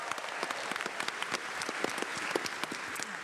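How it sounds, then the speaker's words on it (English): A Comic-Con panel audience for The Big Bang Theory claps together, a fairly soft but continuous patter of many hands with sharper individual claps standing out, and no talking over it. "Let's give that another round of applause."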